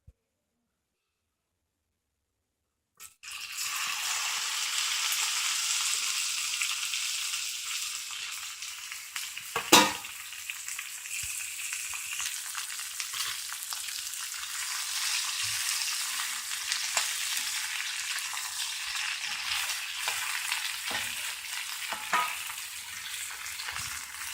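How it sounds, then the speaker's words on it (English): After a few seconds of silence, okra hits hot oil and erupts into a loud, broad sizzle that settles into a steady frying hiss with occasional pops and stirring knocks, for a North Indian-style curry. "Now first let's add the lady's finger and fry it."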